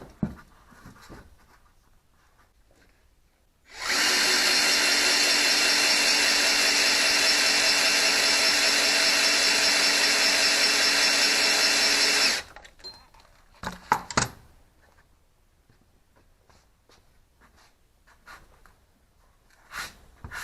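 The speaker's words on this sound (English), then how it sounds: "the drill is supplying 60 psi of pressure" An electric drill spins steadily for about eight seconds, driving an oil pump to prime and pressurize an engine fitted with an Accusump oil accumulator, a loud constant whine that starts and stops abruptly, followed by faint clicks and handling noises.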